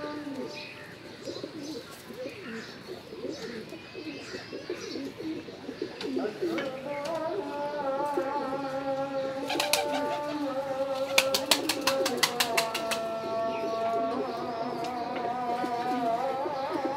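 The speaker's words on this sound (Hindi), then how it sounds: "कुछ कबूतर जो है वो दाना खा रहे हैं, बाकी यहाँ इकट्ठे होके पानी पीने में मसरूफ हैं।" Pigeons coo in a gathered flock while some peck at grain and others drink water, with soft, repeated coos and occasional chirps continuing steadily, joined by a few sharp, rapid bursts.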